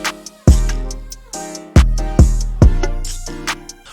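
Looped sample melody layered with a second melody pitched up an octave, heard as loud, punchy low notes in a steady repeating pattern with bright higher tones ringing above and no talking.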